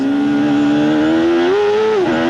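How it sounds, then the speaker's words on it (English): A 1993 CART IndyCar at the Monterey Grand Prix, on board as it brakes hard, its engine screaming loud and close in a steady high whine, then spiking sharply in pitch as it over-revs on a downshift. "The engine screams on the brakes. Hear that almost an over rev as he down changes."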